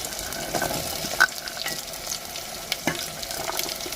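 Vegetables such as potato, peas, beans and carrot fry in a pan with a soft, steady sizzle, broken by intermittent scraping and clinking stir strokes, close up and with no talk.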